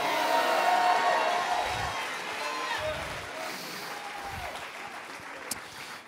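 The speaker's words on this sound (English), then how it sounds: "clap your hands one more time and give God a mighty shout of praise" A congregation at an evangelistic revival night service claps and shouts praise together, a loud, dense wash of applause and cheering voices that slowly eases off over several seconds.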